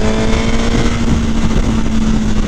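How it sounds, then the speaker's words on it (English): A 2018 Suzuki GSX-R1000R at full throttle, its engine a loud, steady, high-pitched roar under heavy wind rush, heard close up from the rider's position. "if we pin the throttle, as you can see, the bike's got instant power"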